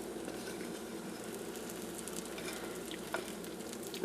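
Pancake batter made from Martha White muffin mix sizzles steadily in a pan, a continuous close frying hiss with faint crackle and no talk.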